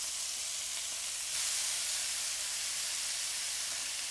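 Onions sauté in butter in a hot pan, giving a steady, even sizzle and hiss that stays fairly quiet and unbroken throughout, with no talking.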